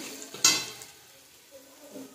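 A brief burst of sizzling as khesari (grass pea) greens are stirred in a hot pan, fading into a quieter, steady frying hiss.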